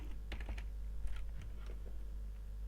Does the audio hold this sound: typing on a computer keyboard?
yes